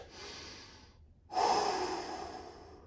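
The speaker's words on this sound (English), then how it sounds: "So really deep breaths." A person breathes deeply during a rest between kettlebell workout sets: a soft exhale, a brief pause, then a loud, close, drawn-out breath that slowly fades, with no talking.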